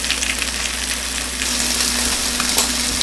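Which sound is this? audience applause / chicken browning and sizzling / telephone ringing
chicken browning and sizzling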